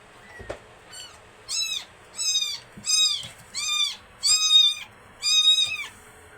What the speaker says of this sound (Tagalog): bakit hawak-hawak mong baby cat?